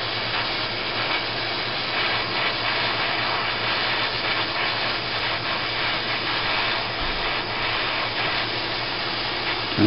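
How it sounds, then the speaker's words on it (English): A gas torch flame burns with a steady, unbroken roar and hiss as it heats fluxed metal pieces for soldering, holding constant and close with no talking. "Now let's light our torch, turn on the gas and hit it with the lighter."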